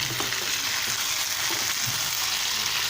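Fish frying in a pan with tomatoes just added, a steady close sizzle with soft crackles and light stirring clinks throughout, no talking.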